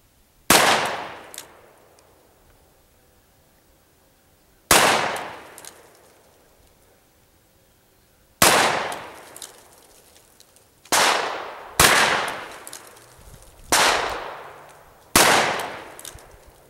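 A Smith & Wesson Model 610 10mm revolver fires seven loud, sharp shots at an outdoor range, first spaced several seconds apart and then coming faster, each crack followed by a short ringing decay.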